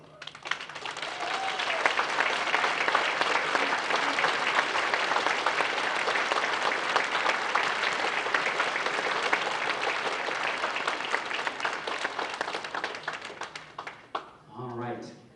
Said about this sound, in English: could I have Camilla Johnson and Elizabeth Wilson please stand for a round of applause